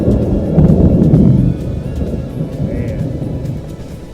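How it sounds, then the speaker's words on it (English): A heavy mountain thunderstorm near Santa Fe, New Mexico, heard from inside a camping tent: loud low rumbling thunder rolls under dense, steady rain, fading slightly after the first peak, with a brief spoken word. "Storms come up on these mountains and they just like hit big."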